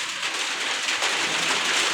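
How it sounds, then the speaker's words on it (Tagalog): Steady heavy rain drumming on surfaces, a dense close hiss that fills the moment without pause or voices. "Ang ulan."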